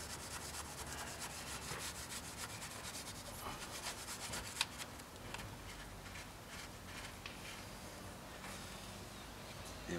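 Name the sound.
cloth pulled back and forth to clean injector seat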